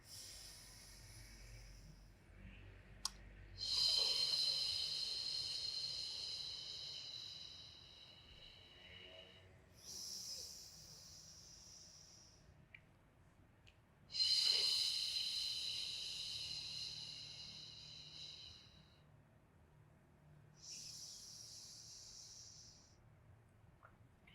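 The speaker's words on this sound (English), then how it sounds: "Exhaling through the mouth. Allow the abdominal, the rib cage, the chest to deflate." Slow, deep breaths drawn in and pushed out through the mouth in a beginner pre-Pilates session, long airy exhales alternating with quieter inhales across roughly twenty seconds, close and steady with no talk.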